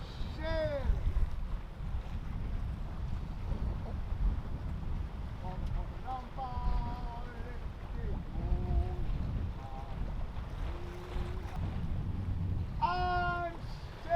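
A sailboat out on a bay under sail, with steady wind rushing across the microphone and water noise, while voices call and shout intermittently over it.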